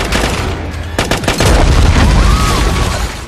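Explosions and gunfire from a suicide bombers' attack in the RoboCop (2014) film: a cluster of sharp blasts and cracks erupts about a second in, then gives way to a loud, sustained rumbling roar.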